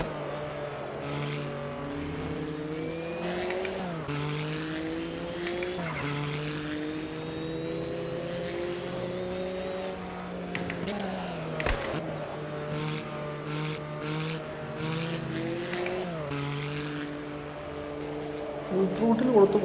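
Porsche 962C race car in the AMS2 sim racing game at Cascavel, its engine droning and rising through the revs with gear changes breaking the pitch, while someone talks over it throughout.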